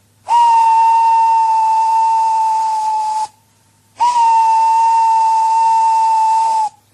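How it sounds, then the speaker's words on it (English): A loud steam engine whistle shrieks twice, each blast sustained for about three seconds with a hissy edge, separated by a short gap. "Gordon went on whistling and whistling and whistling."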